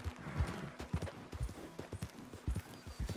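Horse hooves clip-clopping in Red Dead Redemption 2, a regular walking gait with close, dull thuds on dirt, moderately loud and rhythmic for a few seconds.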